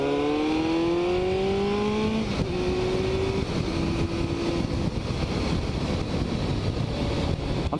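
A Kawasaki ZX-7R motorcycle engine revs hard and climbs through several clutch upshifts, loud and close, each gear's rising whine dropping briefly before pulling again.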